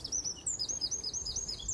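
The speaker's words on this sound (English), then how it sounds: "A few birds up in the trees." Birds chirping continuously in high, quick tweets over a low background hum, moderately close and steady.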